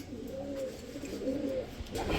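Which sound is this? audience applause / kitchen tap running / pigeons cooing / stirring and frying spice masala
pigeons cooing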